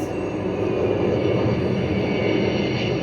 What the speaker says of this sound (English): The plane hit the first tower.